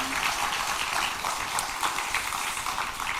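Congregation applause in a Korean church during an evening revival service, a dense crackling wash of many hands clapping together, steady and fairly loud throughout with no voices over it.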